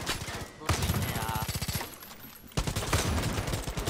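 Rapid automatic gunfire in the video game Far Cry 5 while shooting an enemy, two long bursts of fast, evenly spaced shots separated by a short break, loud and close.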